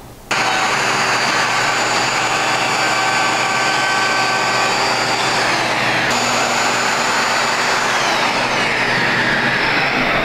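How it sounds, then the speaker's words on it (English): A router fitted with a chamfer bit cuts along sanded wooden edges, a loud, steady high-pitched whine that holds constant for about ten seconds, with a slight shift in tone partway through. "ran a chamfer bit on these edges"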